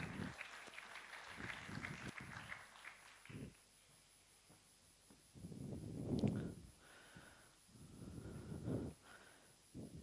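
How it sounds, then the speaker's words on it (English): Faint applause from a conference audience rises in two bursts partway through, after a quieter stretch with scattered sounds. "A very warm welcome and applause."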